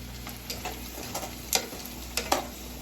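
Food frying in hot oil for a chicken feet and gizzard mukbang gives a continuous soft sizzle broken by a few sharp close pops and crackles, with no one talking.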